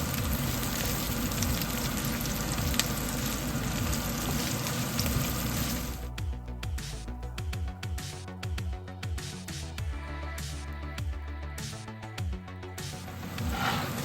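Onions fry in a pan for Indo-Chinese chilli paneer, giving a dense, steady sizzle for about six seconds. Lighter crackling and clinks of stirring follow, with no one speaking.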